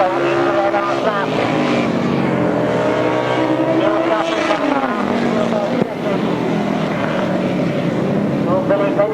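Grasstrack racing motorcycles at a 1998 meeting roar past in a tight group. Their engine whine rises and shifts in pitch as they sweep by, and a commentator keeps talking over the din.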